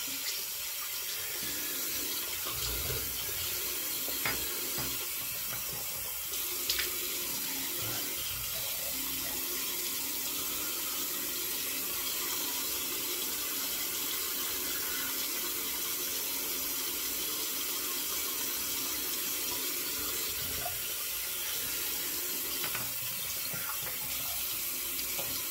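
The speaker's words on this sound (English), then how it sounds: "Give it the hot water rinse here." Hot water runs steadily from a tap for rinsing, a constant close hiss and splash lasting throughout with faint clinks, no talk.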